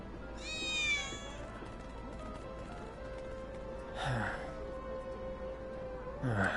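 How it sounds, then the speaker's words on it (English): Cat meowing within the video game Final Fantasy VII Remake: a clear drawn-out meow near the start, then two shorter fainter cries later, over a steady low game ambience. "I think one of Betty's cats might be nearby."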